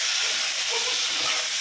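Chopped tomatoes land in a hot pan of sautéed onions, giving a loud, steady sizzling hiss that fills the whole moment.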